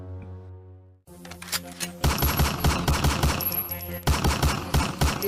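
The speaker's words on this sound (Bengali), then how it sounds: "আমি গুলি করতেছি।" Rapid gunshots fired at a car's tyres during a chase, starting after a second of a low tonal hum and continuing as loud, dense bursts of sharp cracks with a brief pause before a final volley.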